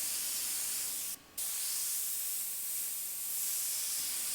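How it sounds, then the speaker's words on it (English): An airbrush hisses steadily while spraying small dots of paint onto a t-shirt held far from the fabric, with a brief break in the spray partway through. "I'm using a series of smaller dots, keeping the airbrush far away"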